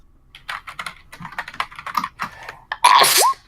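A single sharp sneeze bursts out near the end, loud and close, after a stretch of quiet clicking and tapping like keyboard typing.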